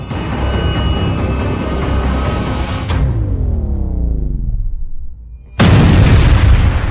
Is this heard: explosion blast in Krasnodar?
yes